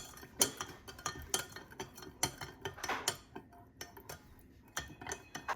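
Sauce thickened with about four teaspoons of cornstarch being mixed in a bowl, giving a run of sharp clinking taps of utensil against dish at an uneven rhythm, close and fairly quiet, with no talking.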